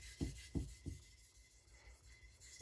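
A Victorinox Chinese cleaver being thinned behind the edge on a sharpening stone, heard as three soft, rhythmic rubbing strokes close by, each a brief low scrape, followed by quieter steady friction.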